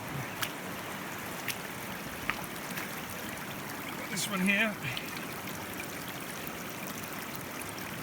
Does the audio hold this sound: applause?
no